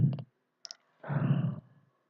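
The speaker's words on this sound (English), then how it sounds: "Let's click on OK." Computer mouse clicks while setting up a location in Oracle Fusion software: a quick double click, a fainter double click, then a longer soft rustling, all quiet and close with no talk.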